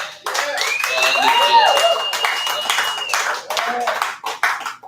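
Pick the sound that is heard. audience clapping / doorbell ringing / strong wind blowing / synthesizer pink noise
audience clapping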